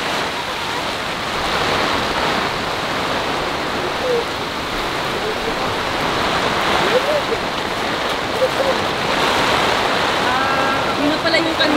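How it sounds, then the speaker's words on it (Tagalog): Strong typhoon wind roars steadily and without a break at a campsite, loud and close, with faint voices now and then underneath. "Tuloy-tuloy yung hangin."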